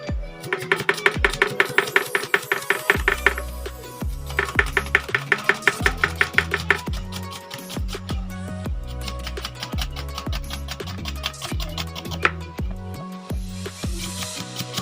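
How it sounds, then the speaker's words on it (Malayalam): Onions chopped with a knife on a board for Ras al Khaimah dum biryani, with bursts of quick, loud, evenly spaced knife strikes separated by short pauses, close up and with no talking. "അപ്പോൾ അതിനുള്ള കുറച്ച് ഉള്ളി എടുത്തിട്ടുണ്ട്, അതൊന്ന് വെട്ടാം."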